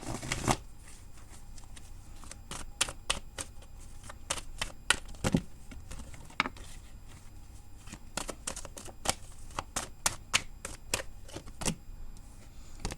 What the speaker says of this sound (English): Let me put that back and shuffle again.